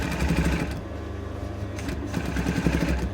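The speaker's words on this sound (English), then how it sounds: "you're going to put a line of stitching about 3 millimeters in from the edge" A sewing machine runs steadily while stitching the lining of a strapless dress near the edge, a close, continuous mechanical whir with a brief slowdown midway.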